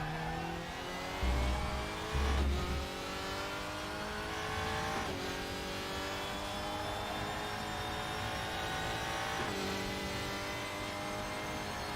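A WTCR touring car engine in the RaceRoom sim racing game drones at high revs, with repeated upshifts marked by brief dips, two heavy low thumps early on, loud and continuous without speech.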